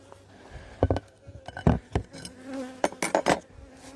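Honeybees buzz faintly around an open hive during an inspection, under a scatter of sharp knocks, taps and clatter from handling the frames and hive boxes.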